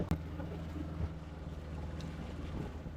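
A small fishing boat motors along off Bali while trolling a line, its low engine hum steady under wind and water noise, with a sharp knock near the start.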